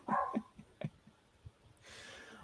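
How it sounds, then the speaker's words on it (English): Several dogs bark in quick bursts, loud near yips followed by softer, more distant barks, then fading into low background noise. "Hey, my dogs are barking."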